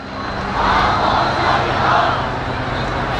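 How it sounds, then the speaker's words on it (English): A helicopter hovering just overhead during street protests produces a steady, loud rotor and engine roar with a slight swell, unbroken throughout. "there's a helicopter just above us here"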